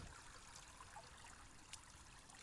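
Creek water flows in a steady, soft outdoor wash with a faint trickle, carrying on evenly throughout with no voices.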